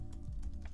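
Typing on a computer keyboard while entering a resource-group name, heard as a few soft, close key taps over a low steady hum.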